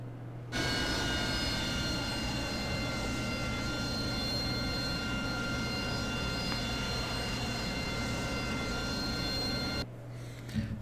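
A jet aircraft in the DCS World flight simulator drones steadily with a loud, even engine roar and high whine, starting abruptly and cutting off near the end, with no voices over it.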